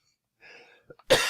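After a faint breath and small throat noises, a person nearby lets out one sharp, loud cough that ends the moment abruptly.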